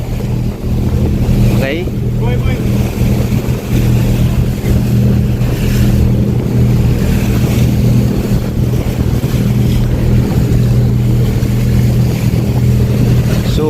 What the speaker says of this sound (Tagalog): sabay-sabay na yung mga bangka, ang dami, oh.